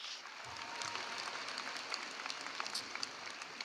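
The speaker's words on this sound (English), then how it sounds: "Let's give them a huge round of applause." Moderately loud applause fills a high school graduation hall, a continuous wash of many hands clapping with a few sharper individual claps standing out, steady throughout the short stretch.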